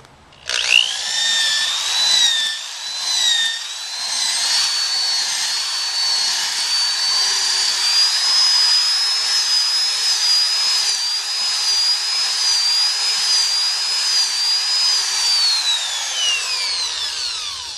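Denker rotary carver spinning at drill speed and cutting into wood, giving a loud, steady high whine with a grinding edge that holds for about fifteen seconds and then winds down at the end.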